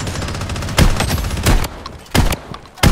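Bursts of rapid gunfire in the shooter video game Blood Strike, several loud volleys a fraction of a second apart, punchy and close, with little else around them.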